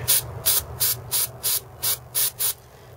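Carb cleaner sprayed onto a greasy engine part in eight short, evenly spaced hissing bursts, close and loud, over a low steady background hum.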